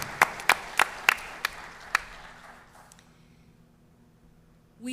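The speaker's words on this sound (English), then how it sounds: "Let's give them a round of applause." A small group claps at a school board meeting, starting with a few sharp separate claps that thin out and fade away over the first two seconds, then a quiet room.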